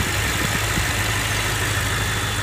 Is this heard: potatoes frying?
no